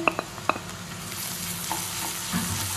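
Onions fry in a pan as garlic ginger paste goes in: a low steady sizzle with a few sharp spoon-on-pan knocks near the start and a soft stirring scrape, close up, without voices.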